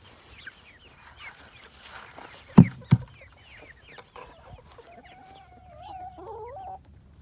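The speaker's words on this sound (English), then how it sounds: "Come on, chickens." Backyard chickens cluck and murmur at morning feeding, with scattered soft clucks, a couple of sharp knocks partway through and a drawn-out trilling call near the end, close by and fairly quiet.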